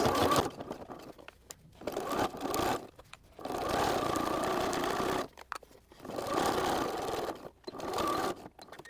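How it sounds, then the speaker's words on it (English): A sewing machine stitches Velcro onto a seat belt cover in bursts of steady motor whir, four runs of a second or two each broken by brief pauses, close and fairly loud with no talking. "So now I just have to sew the other side of the Velcro on each side."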